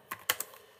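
Keystrokes on a computer keyboard with an English layout: three quick, close clicks, the middle one loudest, with no talking.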